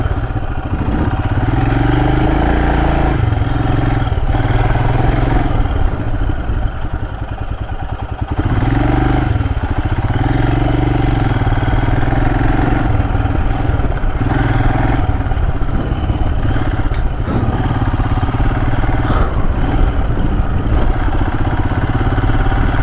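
A Royal Enfield Himalayan rides an off-road jungle trail in Joypur Forest, the single-cylinder engine thumping steadily and close, with throttle swells, rattling clatter and bumps throughout.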